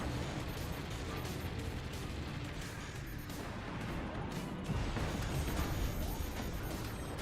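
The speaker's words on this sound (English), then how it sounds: "All 4 howitzers blasting" Four howitzers firing in a video game, a dense, continuous barrage of low booms and rumbling crashes that stays loud and unbroken throughout.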